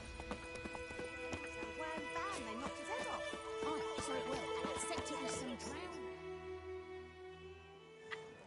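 Hooves of Geralt's horse Roach clip-clop in a steady trotting rhythm in the Witcher 3 video game, close and continuous, with game music and a voice speaking over it before the hooves fade near the end.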